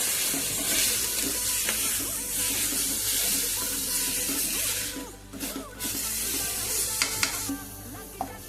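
Chopped vegetables and cabbage for momo filling are stirred and tossed in a hot pan, with a steady close sizzle, scraping of the spatula and brief clanks, and no voices.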